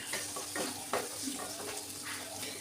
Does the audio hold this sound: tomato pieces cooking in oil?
yes